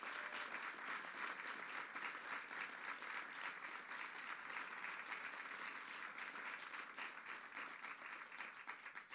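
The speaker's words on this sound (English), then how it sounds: "And let's give them a round of applause," An audience at a legislation signing event applauds steadily, dense sustained clapping from a large crowd continuing throughout, fairly distant and with no clear speech over it.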